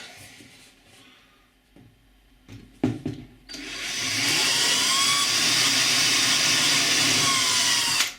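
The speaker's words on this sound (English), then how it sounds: "I've got a fatter drill bit here. So I'm going to widen the hole through the acrylic" A few brief knocks and clicks, then a power drill with a wide bit spins up and runs steadily at high speed, loud and close, widening a hole through acrylic.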